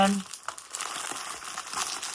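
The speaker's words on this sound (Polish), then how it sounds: "To jest chyba papier do pakowania" Christmas wrapping paper with festive patterns and gold bows is crumpled up close, a continuous dense crinkling over about two seconds, with a voice faintly present.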